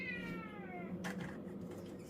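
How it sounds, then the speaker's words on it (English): A cat meows once up close, a drawn-out, falling cry in a quiet room, followed by a brief soft rustle. "Get out of here, kitty. No, kitty."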